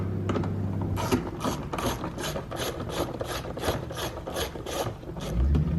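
Ratcheting clicks from an E8 star bit driving two small screws on a 2013-2020 Ford Fusion door panel, a steady run of close, evenly spaced ticks with light rubbing underneath.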